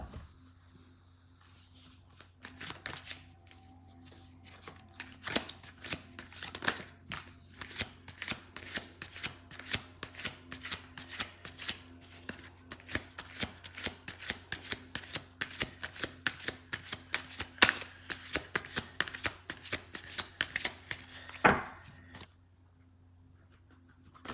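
Tarot cards are shuffled again and again in quick riffling bursts, close and crisp, with a low steady hum in the background.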